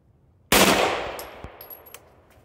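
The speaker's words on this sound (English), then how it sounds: "All right, we'll do five round shot group." A single sharp pistol gunshot at a shooting range, loud and close, cracking suddenly and then decaying into a ringing tail with a few faint clicks afterward.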